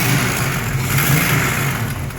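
A 1936 Buick engine with an overheating problem revs loudly and steadily up close, a continuous mid-pitched roar with no voices.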